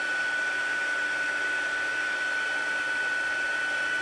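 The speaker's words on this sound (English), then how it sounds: "Don't hold your heat tool in the one place for too long" A heat tool blows steadily over paper to melt embossing powder for Stampin' Up! multi-coloured embossing, giving a constant fan hiss with a thin high whine, close and unbroken throughout, with no talk.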